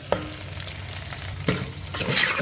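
A spatula scrapes and clacks against a pan several times while green chillies and onions fry underneath with a steady crackling sizzle, close and fairly loud, no voices.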